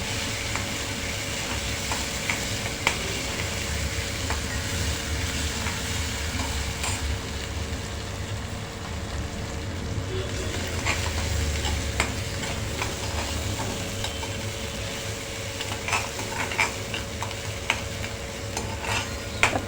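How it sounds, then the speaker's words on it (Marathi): Green chilli, lots of garlic and coriander sautéing in a pan, a continuous sizzle with repeated scraping and stirring sounds and a low steady hum underneath, no talk. "हिरवी मिरची आहे भरपूर लसूण घातली आहे आणि कोथिंबीर घातली आहे ती थोडीशी आपण छान परतून घेऊया"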